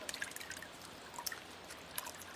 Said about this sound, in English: I'm gonna do a little dip again. I'm gonna scoop it, and then I just pull back the petals.